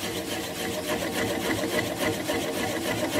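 A wood lathe spinning a fruit bowl blank while a gouge cuts, giving a steady whirring, rasping drone with fine repetitive chatter, close and fairly loud, no talking.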